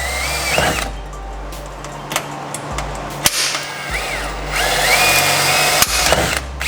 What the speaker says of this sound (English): So we're using Mac Tools hole cutter.